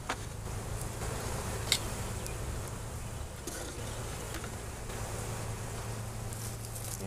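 A swarm of honey bees buzzes steadily and densely close by, a continuous hum with scattered faint knocks and rustles throughout.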